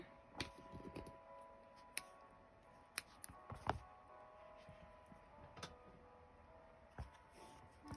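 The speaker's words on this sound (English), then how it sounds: "And then I'm going to cut the yarn." Scissors snip crochet yarn after a slip stitch: a few quiet, sharp clicks scattered over near silence, close to the listener, with no talking.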